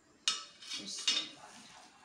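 Chopped coriander and mint being mixed into a tikki mixture in a bowl, two quick scraping clinks of a spoon against the dish followed by soft rustling stirring, close and fairly quiet, with no talking.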